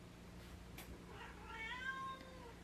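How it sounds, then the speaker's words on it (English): House cats meow quietly over a steady low room hum, with a rising, drawn-out meow in the second half of the clip. "my kitties always decide that's when they need to have all the attention in the world"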